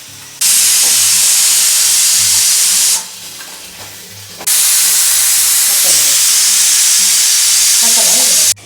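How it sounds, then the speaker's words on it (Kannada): Oil sizzles and spits in a cooking pot while chicken biryani is being prepared at home, a loud, steady frying hiss that drops away briefly in the middle and then returns just as strongly. "ಆಯಿಲ್ ಹಾಕಿ ಸ್ವಲ್ಪ ಫ್ರೈ ಮಾಡಿ"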